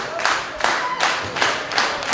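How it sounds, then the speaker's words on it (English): A crowd at a live wrestling show claps rhythmically and cheers for a wrestler named Ethan, loud and steady, with repeated bursts of applause. "The crowd here cheering for Ethan here in the crowd."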